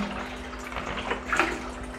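Water pouring into a fish tank during a refill after a 30% water change, a steady splashing rush with a low constant hum underneath, fairly close and continuous.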